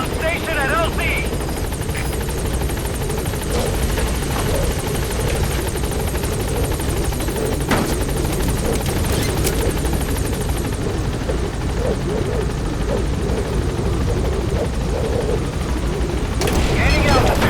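Support helicopter arriving in the Metal Gear Solid V: The Phantom Pain video game: a loud, steady rotor roar fills the whole stretch, with scattered distant gunfire and thuds underneath and a radio voice speaking over it.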